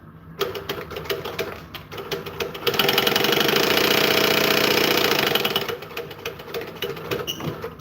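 A sewing machine back stitching on a purse runs in a loud, steady burst for about three seconds. Quieter mechanical clatter comes before and after the burst.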